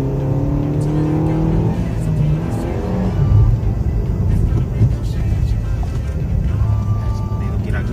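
A 2017 Suzuki Ignis 1.2 with manual gearbox revs its engine, a steady loud drone with rising harmonics that climb and fall, heard from inside the car over continuous road noise.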